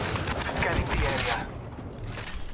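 Gunfire in Apex Legends, a quick flurry of rapid shots crackling close by and then tapering into scattered quieter pops, with a voice speaking amid the shooting.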